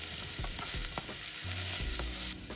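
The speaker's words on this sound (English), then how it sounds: "Add the potatoes and carrots and cook briefly." Potatoes and carrots sizzle steadily in a pot with onions for Japanese curry, with repeated scraping and stirring strokes of a utensil over the continuous frying hiss.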